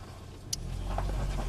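A car engine while being driven off-road, a low steady rumble that grows slightly louder as the throttle is held, with a brief high click early on and no talk.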